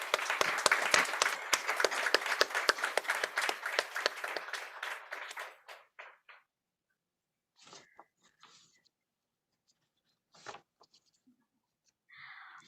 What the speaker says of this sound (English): let's give a wide round of applause for the graduates.